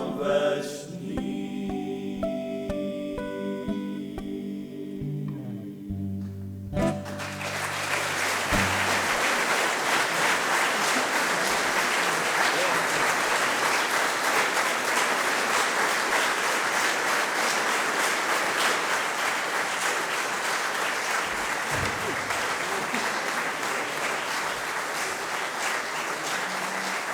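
Applause from a concert audience at a tamburica band's 30th-anniversary celebration swells after the music ends and carries on as a dense, steady clapping that fills the room for a long stretch.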